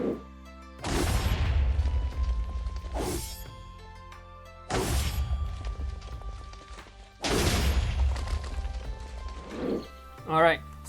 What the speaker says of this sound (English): when you right click, you make this explosion and just slash your opponent